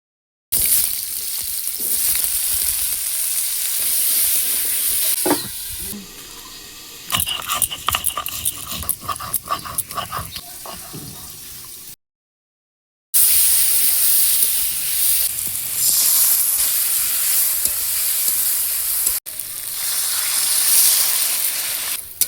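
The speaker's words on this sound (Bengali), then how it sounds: "ফোড়নে দিব শুকনো লঙ্কা, তেজপাতা, পাঁচফোড়ন।" Dry red chili, bay leaf and panch phoron tempered in hot oil for a fish curry, a loud steady sizzle with clinking stirring in the middle, a brief silent gap, then sizzling resumes.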